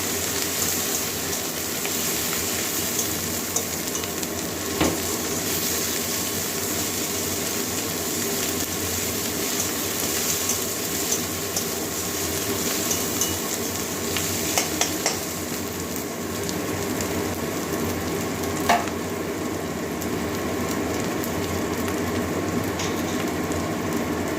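Minced ginger and garlic fry in a pan with a continuous, even sizzle that runs close and steady throughout, with a few faint clinks now and then.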